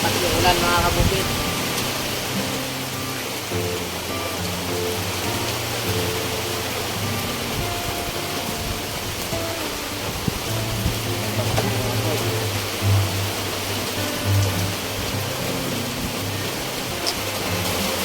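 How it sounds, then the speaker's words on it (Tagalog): Heavy rain pours outdoors during cooking, a broad steady hiss of downpour that holds constant throughout, with a low rumble beneath and faint intermittent background sounds. "Lakas yung ulan mga kabukid."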